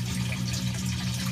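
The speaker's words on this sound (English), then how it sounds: "it starts to draw all the air out of the cap of the bell siphon, and with that motion, bam, water flows right behind it" Water rushes and gurgles steadily through an aquaponics bell siphon in a greenhouse grow bed, a brief continuous wash of flowing water.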